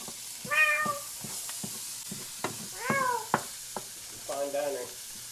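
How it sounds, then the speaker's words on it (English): A cat meows outdoors in three distinct, drawn-out calls spaced a second or two apart, heard over a steady sizzling background with scattered clicks and knocks nearby. "there's a cat out there somewhere going, meow, meow, meow"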